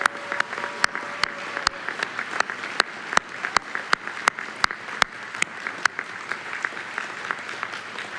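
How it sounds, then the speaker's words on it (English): An audience at an oratorical contest applauds in a sustained, dense wave of clapping, with some sharp individual claps standing out throughout. "Let's give them another big round of applause."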